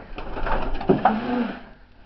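Chinese Owl pigeons, females in a breeding room, give a soft low coo under a faint, muffled background, a short murmuring call rising midway and then fading out.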